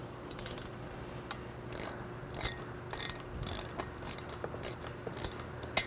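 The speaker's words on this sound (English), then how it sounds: "So I'll just keep spinning and loosening the bolt until I feel the bolt then come all the way loose" A socket wrench loosening a bolt on the bottom plate of an AAI Elite Reflex balance beam, with close, quiet, rapid ratchet clicking in uneven bursts and a small metallic clink at the end.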